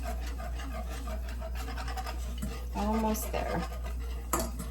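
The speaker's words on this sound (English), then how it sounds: "Just wanna make sure that I get all the bottom scraped up" A spoon scrapes the bottom of a pan of mac and cheese sauce, giving a steady gritty scraping and a few clinks while a person speaks briefly over it.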